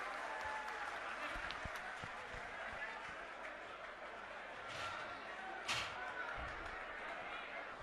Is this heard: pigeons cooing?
no